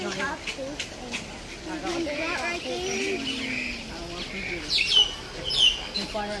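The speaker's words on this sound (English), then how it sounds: "Plenty of birds in the bird bath on this nature walk." Birds at a bird bath along a nature walk give short chirps and tweets, with a brighter burst of calls near the end, heard beneath people talking nearby.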